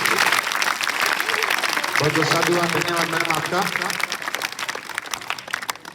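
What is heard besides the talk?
audience applause at a school farewell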